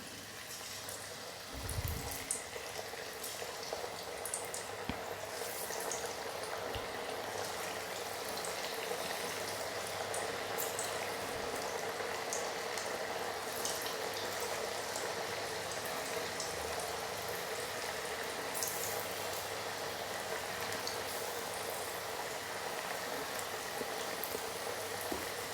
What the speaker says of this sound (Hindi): तो कढ़ाई गरम हो गई है, तो इसमें एक एक आलू इस तरह से डाल देंगे।